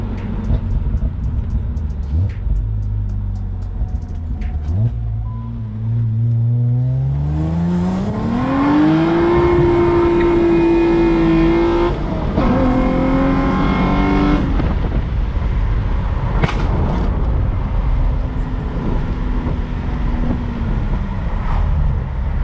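A car engine revs and accelerates hard through second gear, its pitch climbing in a long sweep, dropping briefly, then rising again before cutting off, loud and close with wind noise throughout.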